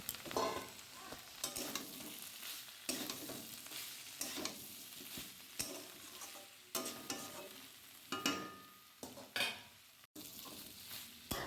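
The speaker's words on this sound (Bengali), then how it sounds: "এবার আমি ভেজে রাখা চিংড়ি মাছটা দিয়ে আর কিছুক্ষণ কষিয়ে নেব" Prawns and green jackfruit sautéing in a home-style pan, a steady sizzle broken by repeated scraping stirs of a spatula, close and moderately loud, with no voices.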